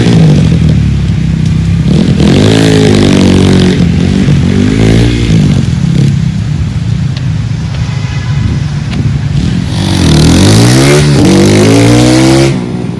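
A 2021 RXF 150 Freeride motocross bike roars nearby as it rides off-road, its engine surging and dropping through repeated acceleration sweeps, loud throughout.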